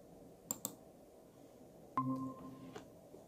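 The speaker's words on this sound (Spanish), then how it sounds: "damos clic en unirse ahora" A few sharp mouse clicks while joining a Google Meet video meeting on a computer, two quick clicks followed by another pair with a faint tone, quiet and close with no talking.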